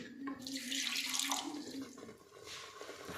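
Water poured into masala while cooking restaurant-style matar paneer, a close, steady splashing stream that runs for about three seconds before tapering off.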